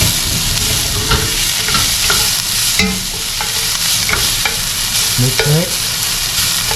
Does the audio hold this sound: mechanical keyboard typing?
no